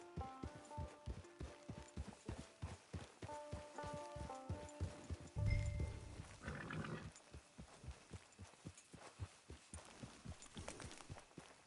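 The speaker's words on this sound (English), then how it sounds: "It's your horse." Horse hooves clip-clop in a steady, close rhythm across a video game scene, with music playing underneath and a brief louder thump partway through.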